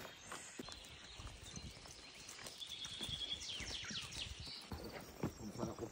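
Horses walk on a mountain trail, their hooves clip-clopping in an irregular rhythm at moderate distance. Faint voices and outdoor ambience sit under the steps, and the overall level is quiet.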